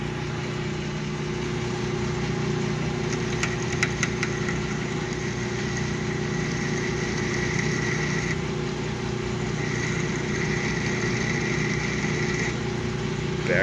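A metal lathe runs with a steady motor drone while an 11/32 drill bit in the tailstock chuck bores into the workpiece, the quill fed by hand; faint higher whine and scraping come and go over the constant hum.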